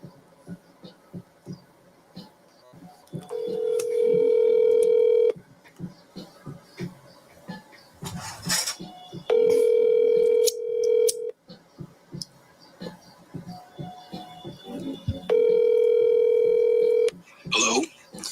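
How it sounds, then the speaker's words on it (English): A phone call on speakerphone rings out in three long, steady electronic ring tones separated by pauses, with speech and background chatter in the room between the rings. "let me go ahead and call the guy. I'm gonna put him on speakerphone."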